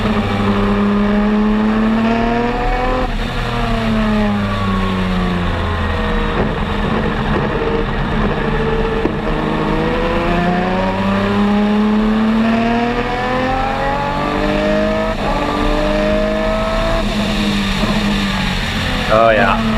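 A driver's race car testing at Mid-Ohio, its engine revving and shifting through rising and falling pitch sweeps, loud and continuous, with speech underneath.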